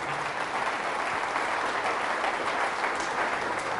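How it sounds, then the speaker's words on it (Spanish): A church audience at a Catholic healing mass breaks into sustained, dense applause honoring Jesus, steady and full throughout with no voices over it. "Fuertes aplausos a Jesús."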